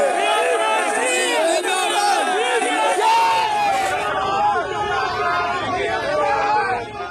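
Crowd of party supporters chanting and cheering as Nawaz Sharif arrives, with a PML-N candidate leading slogans; a dense, loud wall of overlapping voices throughout.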